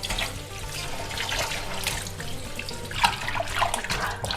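Pork intestines are rinsed in clean water, with liquid splashing and trickling close by as they are rubbed and rinsed by hand. The sound is steady, with slightly louder sloshing toward the end and no speech.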